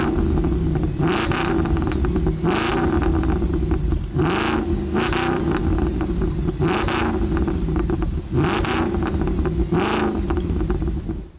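A 2008 Audi S5 V8 with an aftermarket exhaust revs repeatedly while stationary, about six sharp throttle blips rising over a deep steady idle burble, close and loud.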